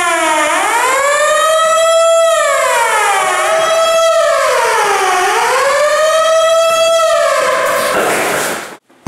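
A fire station alarm siren at a fire and rescue unit in Poltava wails loudly and continuously, rising and falling in long sweeping cycles before cutting off abruptly at the end.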